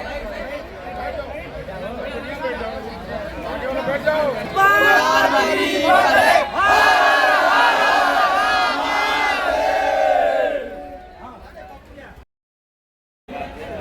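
A crowd at a village Ramlila and felicitation event in Lamhi cheers and shouts loudly in welcome of sanitation workers. The voices swell into a dense roar over background chatter and then cut off abruptly near the end.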